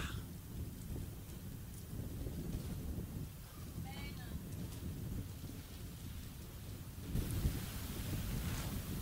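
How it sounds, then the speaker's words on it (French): Rain falls steadily during a church sermon, a soft continuous hiss with a low rumble and a brief louder surge near the end. A distant voice is faintly audible beneath it. "La pluie est une bénédiction."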